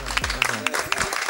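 A studio audience breaks into brief applause to welcome a guest on an Argentine TV variety show, with clapping that swells and fades quickly over a tonal musical backdrop.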